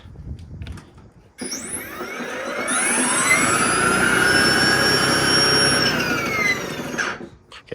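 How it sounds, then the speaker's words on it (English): An Ego 28-inch two-stage battery-powered snow blower starts its auger and spins up to a loud, steady whine with a roaring drone. It runs close for several seconds and then winds down. "And let's run the auger for a second."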